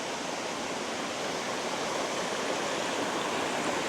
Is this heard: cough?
no